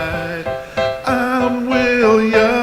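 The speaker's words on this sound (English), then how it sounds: "We'll play the bowler's jingle in a second." A short musical jingle for a cricket bowler plays over radio commentary of a Test match in Wellington, New Zealand against England, with a bright, rhythmic sequence of sustained tones rising and shifting over a few seconds.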